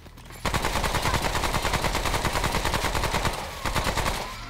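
Rapid automatic gunfire from a favorite weapon in the video game Remnant: From the Ashes, a steady loud burst of closely spaced shots running for several seconds without a break.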